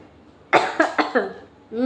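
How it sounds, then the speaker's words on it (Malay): A burst of four quick coughs close to the mic, followed by a voice starting to speak. "nak batuk jap"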